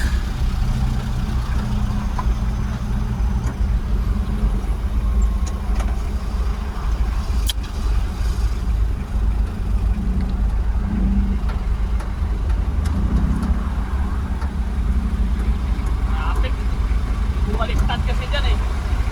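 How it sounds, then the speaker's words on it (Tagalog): Dense road traffic with idling cars and trucks backed up behind an overturned vehicle, a steady low engine rumble filling the scene with people talking over it. "Traffic."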